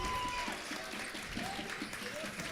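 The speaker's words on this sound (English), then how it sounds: "The Springboro crowd coming alive." At a high school boys' varsity basketball game, a Springboro crowd cheers and applauds as a broad, steady roar from the stands, with a commentator talking over it.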